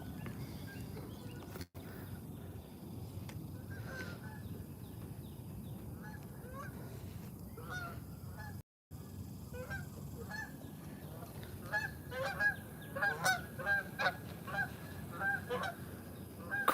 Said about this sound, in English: No, those are geese.